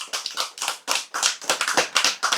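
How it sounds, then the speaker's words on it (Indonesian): A small group at a religious study gathering claps in quick, irregular bursts, sharp close hand claps with brief gaps, no talking over them. "Tepuk tangan."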